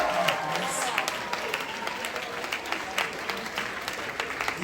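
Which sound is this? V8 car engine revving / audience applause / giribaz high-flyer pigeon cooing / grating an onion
audience applause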